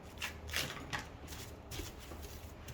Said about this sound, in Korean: 비닐을 먼저 깔아주고 시작하겠습니다.